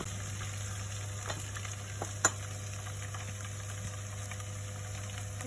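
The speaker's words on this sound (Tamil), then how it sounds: "வெங்காயம் வந்து பொன்னிறமாக மாற வரைக்கும் நம்ம சாட் பண்ணி கொஞ்சம் பொரிய விடலாம்." Onions frying over a medium flame in a pan for a Sri Lankan fish curry, a steady soft sizzle with a low constant hum beneath and a single faint tap partway through, no talking.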